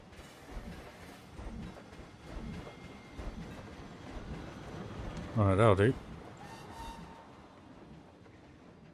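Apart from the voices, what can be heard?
train passing in the video game Planet Coaster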